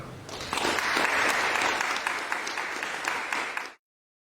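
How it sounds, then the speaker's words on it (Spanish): Enthusiastic audience applause greets a speaker being introduced at a talk, a dense burst of many hands clapping that swells quickly, holds steady for about three seconds, then cuts off abruptly. "Un aplauso para él."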